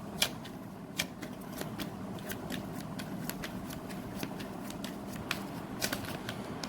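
Tarot cards are shuffled continuously, a dense rapid riffling patter with sharp snapping clicks, close and steady throughout, with no talk.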